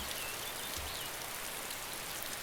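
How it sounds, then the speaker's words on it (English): Rainfall in the DayZ survival video game, a dense, even hiss of drops pattering on surfaces, constant and fairly loud throughout with no voices. "So I'm back in, but this time it's raining to add to the atmosphere."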